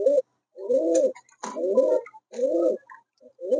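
Giribaz pigeons coo in repeated throaty phrases, four rolling bursts close to the microphone with short pauses between them and no voices.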